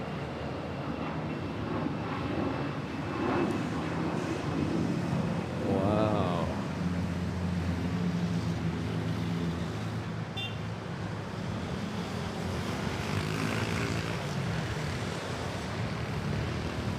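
Airliners taking off back to back from Manila Airport on runways 13 and 06, a steady broad roar of jet engines heard from a distance, with traffic noise mixed in throughout.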